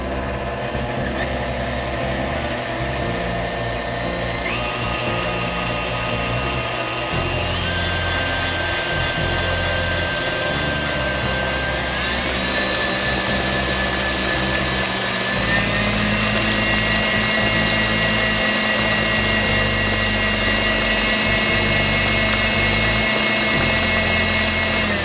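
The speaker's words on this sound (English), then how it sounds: "after the cake mix has mixed very thoroughly with no lumps in it, we're going to take it out of the mixer" Electric mixer beating German chocolate cake batter for an earthquake cake: a continuous close motor whir with a steady hum and shifting high-pitched tones, running unbroken and fairly loud throughout.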